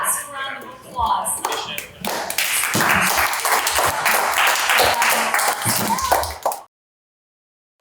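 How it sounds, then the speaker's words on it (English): A summer program crowd claps enthusiastically, a dense burst of hands building after a brief spoken moment and then cutting off abruptly into silence near the end. "Give yourselves one last round of applause."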